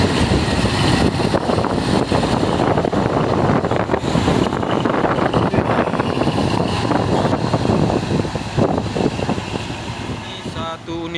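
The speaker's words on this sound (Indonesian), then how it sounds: "Anginnya kenceng banget nih." Strong wind buffets the microphone in a constant loud roar beside a dump truck on a hill road, with low rumbling gusts throughout and no clear voices.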